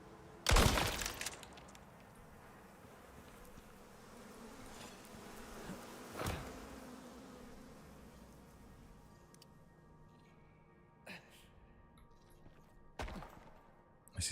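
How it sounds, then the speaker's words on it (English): A swarm of bees buzzes steadily in the Icarus survival game, a continuous droning hum at moderate distance, broken by a few sharp cracks and clicks from gameplay. "thought I heard bees"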